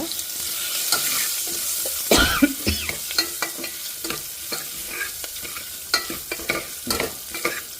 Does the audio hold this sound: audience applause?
no